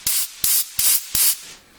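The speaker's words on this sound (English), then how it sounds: "Some compressed air." Compressed air from a Seagens 205 blower blasts loose material out of a Woods Powr vacuum suction cup in four short, loud hissing bursts with brief gaps between them.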